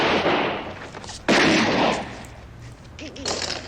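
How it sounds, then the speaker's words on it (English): Gunfire from the 1974 western comedy film Blazing Saddles: a loud blast followed by a second sharp report and a lingering rumble, with a brief voice near the end. "Wow, you shot the bad guy."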